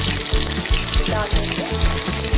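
Chopped onion sizzles loudly in about two spoonfuls of hot oil in a pan, a dense constant crackle broken by repeated low scraping thumps as it is stirred, with no talk.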